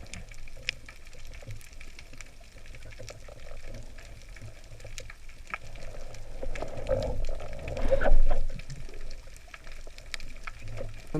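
Steady broadband hiss with a low rumbling undertone, swelling slightly louder toward the end, heard underwater in the ocean off Miami, Florida.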